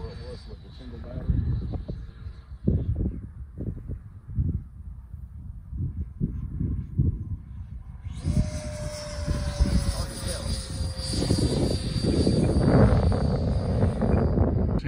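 An Avanti electric ducted fan RC jet on an 8s battery makes a fast pass, a rising high-pitched whine that swells and whooshes by after some outdoor handling noise and talk.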